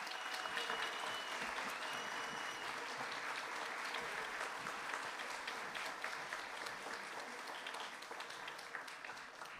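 A crowd applauds steadily for a young prize winner at a French song festival awards ceremony in São Paulo, dense sustained clapping filling the room at moderate distance for nearly ten seconds.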